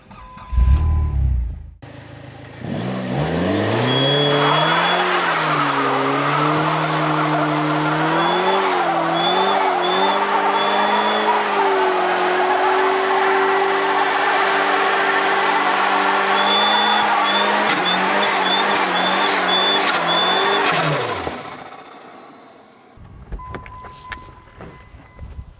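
A front-wheel-drive Neon revving hard while towing a Lexus 100 series Land Cruiser, the engine climbing and wavering through long loud pulls with tire squeal, then cutting off abruptly into quiet.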